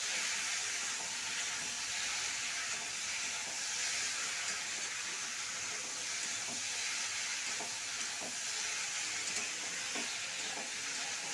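Bottle gourd sautéing in a covered pan: a steady, soft, continuous sizzle and hiss with faint crackles runs evenly throughout, with no talking.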